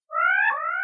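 A short electronic alarm tone used as a calendar alert: one steady, bright, harmonic beep lasting under a second, clear and alone.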